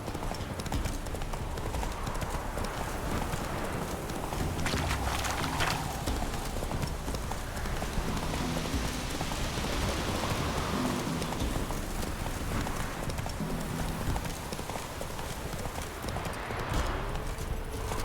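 Hooves of a horse clip-clop at a fast gallop in The Witcher 3, a steady drumming rhythm layered with rain-like ambient noise throughout, with an occasional whinny.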